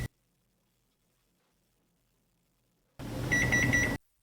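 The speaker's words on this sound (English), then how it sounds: "All right, the timer's going off." A kitchen timer alarm: a quick series of sharp electronic beeps rings out loudly after a long silence, repeating in a steady rhythm for about a second before cutting off.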